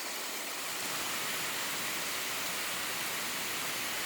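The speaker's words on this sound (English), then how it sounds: "Look at all that nice rain." Heavy rain falling in a steady, dense hiss with no breaks, moderately loud and alone without voices.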